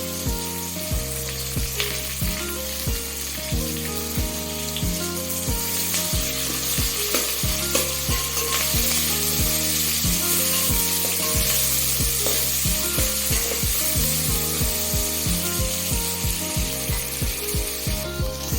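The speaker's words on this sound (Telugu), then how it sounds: "ఇప్పుడు కొంచెం టమాటా వేసుకుందాం. ఒక్క టమాటా వేసుకుందాం అంతే." Tomato frying in a pan for a meal maker pulao, giving a continuous loud sizzle with regular scraping stirs and utensil clicks that run steadily throughout.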